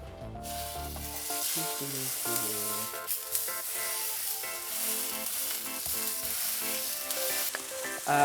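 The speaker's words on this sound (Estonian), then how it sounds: "Aeg praadima hakata, teeme 2 tükki korraga." Two meat patties fry in a pan, giving a loud, steady sizzle with a constant hiss, while background music plays throughout and no one speaks.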